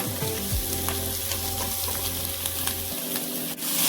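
Rice with salt and precooked vegetables fries in a pan, giving a steady close sizzle with light scraping stirs over background music that cuts out near the end.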